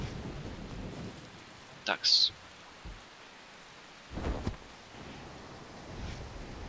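Rain and thunder from the Far Cry 3 video game: a steady hiss of rainfall with low thunder rumbles, a sharp crack near the two-second mark and another rumble later, a brief spoken word over it.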